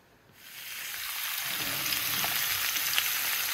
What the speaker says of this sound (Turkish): kabağımızı bu şekilde patates kızartır gibi tavama attım. Öyle yavaş yavaş kızaracak arkadaşlar.